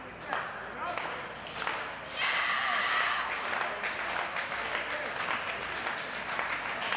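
A wrestling crowd at a women's brawl cheers and applauds steadily, a dense wash of clapping and shouting that swells and holds from about two seconds on, with no clear talk over it.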